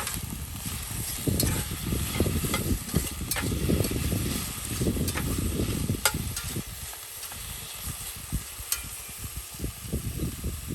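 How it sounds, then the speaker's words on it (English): Meat sears in a pan at a glamping cargo-trailer camp, a steady close sizzle and crackle with occasional stirring scrapes, fading a little toward the end. "Get it seared all over."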